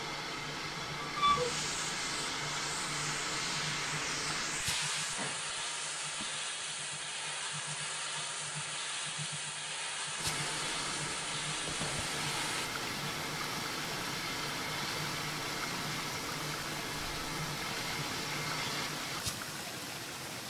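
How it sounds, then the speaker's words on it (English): Steady hiss of water filling the tender of a GWR 14xx steam locomotive in Train Simulator 2015, on the Falmouth branch with an autocoach, with a broad high wash that cuts out briefly and returns, set over a low idling rumble. "Filling up the tender at the moment with water."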